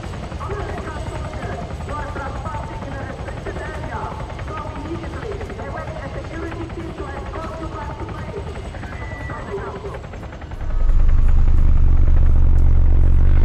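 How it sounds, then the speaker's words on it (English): A helicopter in the video game Arma 3 drones steadily with a rotor clatter throughout, close and loud, rising to a heavier rumble near the end as voices talk over it. "Please tell me you didn't just take down that helicopter."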